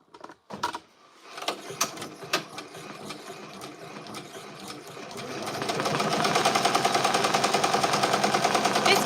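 An embroidery machine stitching a design: a few scattered starting clunks, then a fast, steady, loud mechanical rattle of needle strokes building and running continuously.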